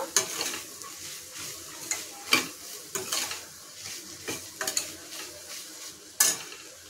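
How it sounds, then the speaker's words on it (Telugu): Chickpeas seasoned with salt being stirred in a pan over a steady sizzle, with a spoon scraping and clinking against the pan in irregular strokes, close and fairly loud. "సాల్ట్ వేసి 1 నిమిషం కలిపాక"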